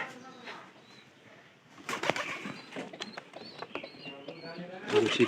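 Pigeons in a loft, cooing and stirring under a person talking nearby, with flutters and brief scuffling sounds that grow louder near the end.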